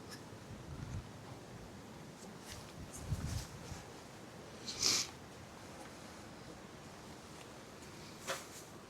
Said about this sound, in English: it feels like the cap is about to fly off because of this very strong wind